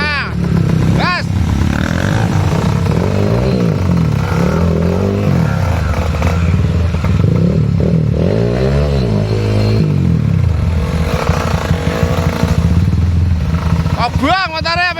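Trail motorcycle ridden in the rain, its engine droning and revving loudly and continuously up close, with rattling clatter and people talking over it.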